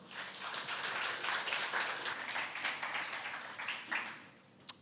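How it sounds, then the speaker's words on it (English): A conference audience at a PyData Amsterdam talk gives a round of applause for a speaker, the clapping moderately loud and steady before tapering off near the end. "Give him a big round of applause."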